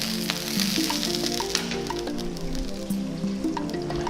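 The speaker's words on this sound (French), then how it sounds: "je vais mettre l'huile à chauffer" Oil sizzles in a frying pan while an African dish is being prepared, a steady soft crackle and hiss running through the whole stretch at moderate volume, with no talking.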